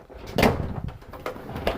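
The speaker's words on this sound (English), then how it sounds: "if you need to close the door, you can do that" The bathroom door inside an Eddie Bauer 2510 camper trailer swings shut with a short wooden knock and a soft latch click. It is close by in a quiet interior, followed by faint taps.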